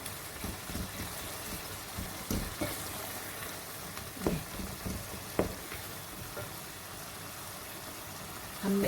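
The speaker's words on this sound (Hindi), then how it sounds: "और अब हम इसे मुसलसल भून रहे हैं" Meat frying steadily in a karahi over high heat for karahi gosht, a soft continuous sizzle with occasional faint clinks of a spoon against the pan, low and even throughout.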